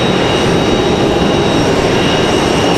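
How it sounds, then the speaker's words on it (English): An American Airlines Airbus A321-200 jet arriving from Charlotte at Raleigh-Durham International, heard as a steady, loud, broadband engine roar that holds constant throughout with no talk. "Again, American Airlines 2023 going to be our next arrival. Another A321-200 coming in from Charlotte."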